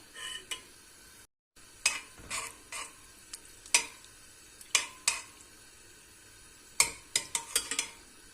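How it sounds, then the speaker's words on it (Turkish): Margarine melts in a pot on the stove as it is stirred, giving sparse, sharp scrapes and clinks of a utensil against metal between quiet gaps, with a faint sizzle. "yavaş yavaş şöyle margarinimiz eriyor"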